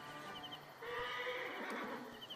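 A horse whinnies in Assassin's Creed Origins, a clear, drawn-out neigh that is close and fairly loud. It rises partway through over a steady game background.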